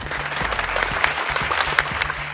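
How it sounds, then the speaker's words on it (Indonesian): Audience applause at an Indonesian beauty-competition TV show fills the room, steady dense clapping from a sizeable crowd with no break throughout. "kita boleh tepuk tangan dong"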